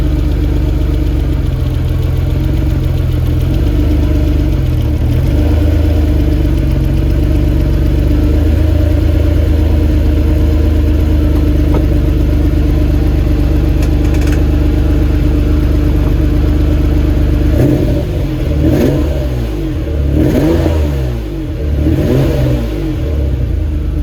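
A Ferrari 456GT engine and exhaust idle with a deep, loud, steady burble, then several sharp revs rise and fall near the end, close to the car.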